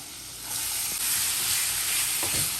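Chopped onion and green chili drop into frying ginger garlic paste for beef cutlets, and a close, loud sizzle rises after half a second and crackles steadily, with a few light stirring clicks.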